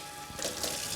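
Water runs from a tap in a home, a soft trickle that swells after a moment into a steady, louder rush, with no one talking.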